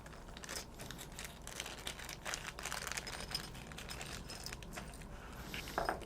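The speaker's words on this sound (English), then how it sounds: "I remove the tape." Tape being peeled off a cardboard shipping package holding a 300 amp circuit breaker, a steady stretch of crinkly tearing and crackling close up for several seconds, with a louder rustle near the end.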